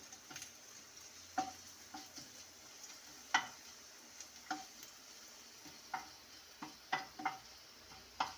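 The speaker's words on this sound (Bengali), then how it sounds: "আদাটাকে আমি একটু ভালোভাবে ফ্রাই করে নেব।" Ginger frying in a pan for vegetable chops, heard as a faint sizzle punctuated by sharp, light spatula taps and scrapes at an uneven rhythm, close and quiet.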